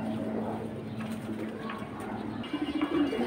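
A male Jabra pigeon gives a short, soft, throaty coo near the end, over a quiet indoor background hum.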